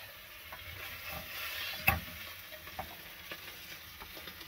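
Oxtail searing in a hot pan inside a camper van kitchen, a steady close sizzle and crackle with a few sharp clicks from tongs stirring the meat, no talking.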